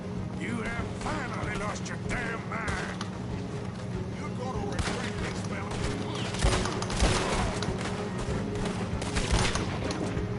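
Gunfire in the Western video game Red Dead Redemption 2: sharp shots and volleys crack over a busy in-game soundscape, with voices talking throughout.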